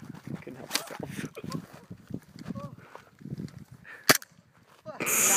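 Airsoft guns fire at a person in a firing-squad setup, a few sharp snapping cracks with one loud report near the end and a burst of noise trailing off, mixed among people talking and shouting nearby.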